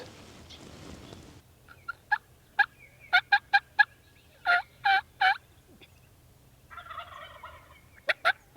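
Wild turkeys gobble in Nebraska, with repeated sharp gobbling bursts coming in clusters, fairly distant and clear over quiet surroundings, and some softer clucking between calls.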